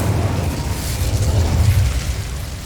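Incendio fire spell cast in Hogwarts Legacy, a loud rumbling whoosh of flame with a deep, rolling boom that holds steady, then tapers slightly, without speech.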